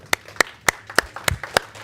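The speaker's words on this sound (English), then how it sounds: "Just a little moment of applause from all of us." Brief applause from a few people at a transit authority board meeting, heard as about six separate, evenly spaced claps over roughly two seconds, sharp and moderately close.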